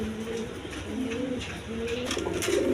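Pigeons coo in repeated soft, throaty phrases at a pigeon sale, several birds overlapping at close range against a low background murmur.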